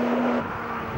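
Porsche 911 GT3 race car on the Laguna Seca circuit, a loud steady engine drone holding one high note, then dropping away as it races over the start-finish line, with no talk.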